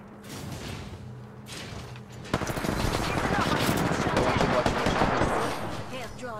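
Video game gunfire starts after a quieter opening stretch, then becomes loud, dense automatic fire with rapid overlapping shots that keep going for several seconds.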